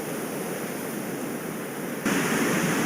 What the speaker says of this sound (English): Look at that blowhole there going down. The water going down into the hole.